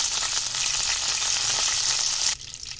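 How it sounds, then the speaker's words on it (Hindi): Curry leaves and chilli crackle and fry in hot oil for Maharashtrian kanda poha, a loud, steady sizzle that drops off sharply near the end, with no talking. "तो कड़ी पत्ता डलेगा।"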